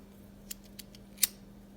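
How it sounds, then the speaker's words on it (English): A few quiet, crisp snips of poor scissors cutting faux leather vinyl, spaced unevenly over a steady low hum, with no talking. "I think I grabbed the worst pair of scissors I had at my desk"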